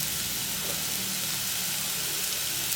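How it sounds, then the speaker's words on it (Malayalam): Water hits a hot pan of fried vermicelli, giving a steady, even sizzling hiss that holds without a break for the whole moment. "ഒരു പാക്കറ്റ് സേമിയയ്ക്ക് 1/2 ലിറ്റർ വെള്ളമാണ് ഒഴിച്ചു കൊടുക്കുന്നത്"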